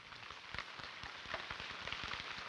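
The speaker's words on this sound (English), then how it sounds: "Here comes the rain." Steady storm rain pattering on a surface with wind, a dense hiss with scattered sharper drops, fairly loud and continuous.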